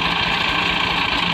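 A tractor stuck in a Pakistani village keeps its engine running, giving a loud, steady mid-pitched chugging hum that holds without a break at close range.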